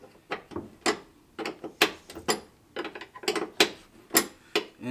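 A 12 millimeter wrench loosens bolts on a Honda Civic, giving a rapid series of sharp metallic ratcheting clicks in irregular bursts at close range, with no talking.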